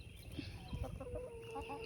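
Chickens cluck softly nearby in short, scattered bursts, with faint background noise.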